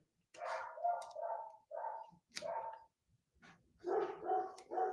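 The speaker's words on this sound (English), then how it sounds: "Wow, those dogs are going crazy." Several neighborhood dogs bark in bursts, the barks repeating fairly loudly with short gaps and a few yips, no talking over them.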